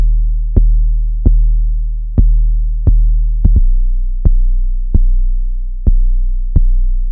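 Deep sine-wave 808 bass notes from a Serum synthesizer, about nine short punchy hits in an uneven beat pattern, each with a sharp click attack and long sustained low tail, loud and alone.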